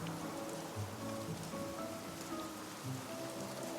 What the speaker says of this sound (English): Rain starts to pour and the wind howls fiercely.